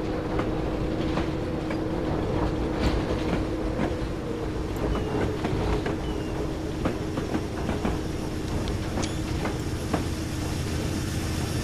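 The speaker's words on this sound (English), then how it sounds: "As well as a 56 coming through on a coal train." A Class 56 locomotive hauling a coal train in Train Simulator 2020 rumbles past with a steady engine drone and repeated rhythmic clacks of wheels over rail joints, continuous and fairly close.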